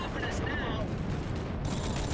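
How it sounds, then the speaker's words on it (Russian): Rapid bursts of gunfire in the video game Rogue Trooper crackle and boom in quick succession, dense and loud, with bits of voice mixed into the noisy clatter. "Снова дико техничная стрельба."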